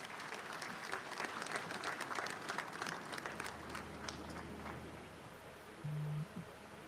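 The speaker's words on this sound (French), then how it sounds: "Merci de les applaudir encore une fois, s'il vous plaît." An audience applauds at the presidential inauguration ceremony of Alassane Ouattara in Côte d'Ivoire, moderately distant clapping that swells and then thins out, with a brief hum near the end.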